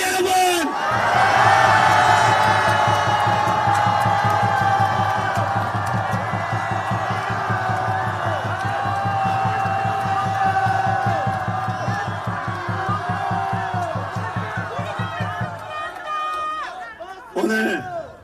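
A large outdoor political rally crowd of young people in Gyeonggi Province roars, shouts and cheers loudly and continuously, whoops rising over a dense babble before the noise drops away and briefly surges again near the end.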